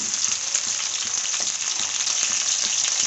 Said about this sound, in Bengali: এই ইলিশ মাছের আলুটা আমি খুব ভালো করে ভেজে নিয়েছি